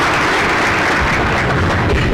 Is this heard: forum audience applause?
yes